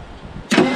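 A 1975 Ford LTD with a 460ci big block, left sitting in a field, cranks and catches abruptly, its engine bursting to a loud, rough roar that holds steady after a short quiet lead-in.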